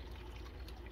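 Warm sour milk curds poured through a strainer on a stovetop, draining into a bowl as ricotta cheese is made; a short, steady close-up trickle and splash of liquid with no talking.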